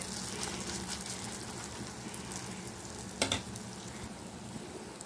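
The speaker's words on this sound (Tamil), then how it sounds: "மீடியம் ஃப்ளேமில் வைங்க, அப்போ தான் அது நல்லா மொறு மொறுன்னு ரோஸ்ட் ஆகும்" Nine-grain adai batter spread on a hot pan, frying over a medium flame with a steady, close, dense sizzle and one brief scraping stir near the end, with no voices.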